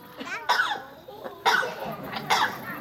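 A parrot at a bird show coughs in short raspy bursts, three or four rough hacks spread over a few seconds, close and fairly loud, with no clear talk.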